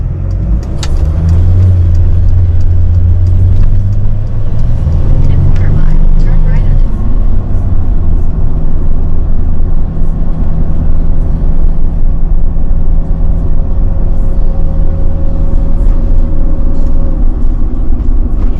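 Cars pass along a street in downtown Beaufort, South Carolina, near the waterfront, a loud, close engine rumble swelling and easing as vehicles go by one after another, with people talking over the traffic.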